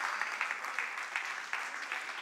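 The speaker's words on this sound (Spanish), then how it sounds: "Denle un aplauso al Señor" A church congregation at a Sunday worship service applauds, moderately quiet and a little distant, with some louder individual claps rising out of a steady wash of hands.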